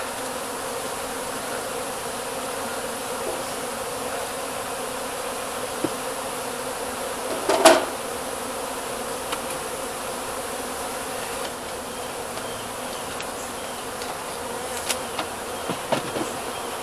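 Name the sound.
honeybees buzzing around a deer feeder hive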